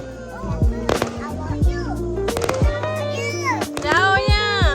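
Firecrackers set off in a village during Hari Raya pop in sharp, scattered bursts, loud and close, with voices talking throughout.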